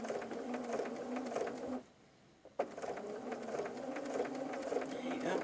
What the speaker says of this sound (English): I'm going to stitch right down, and this time we're going right to the edge.